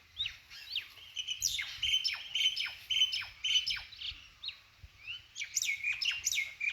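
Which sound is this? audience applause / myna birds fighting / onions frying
myna birds fighting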